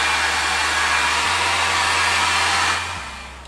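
A hair dryer runs loud and steady, blowing on a freshly painted Halloween pumpkin. Its whooshing roar shifts pitch slightly partway through, then fades as it is switched off.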